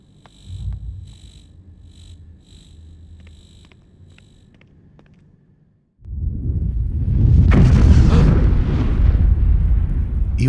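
A thunderous explosion in the video game Three Minutes To Eight erupts suddenly after a quiet stretch of soft ambient tones, a loud, broad rumbling blast that swells and sustains to the end.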